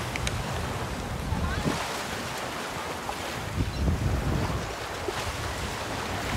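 Ocean surf on Miami Beach, Florida rolls in as a steady broad wash with swelling waves, mixed with heavy wind rumbling against the microphone, no clear speech.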